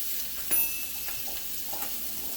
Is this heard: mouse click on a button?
no